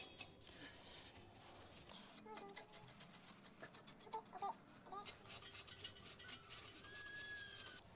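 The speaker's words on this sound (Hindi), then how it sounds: "इसको एक बार क्लीन कर लेते हैं ब्रश से, ब्रश पेंट वाला, और इससे कर दूंगा इसका डस्ट क्लीन पूरा" A paint brush sweeps dust off a car's brake parts during a DIY brake service, giving soft, scratchy bristle strokes in an uneven rhythm, quiet and close.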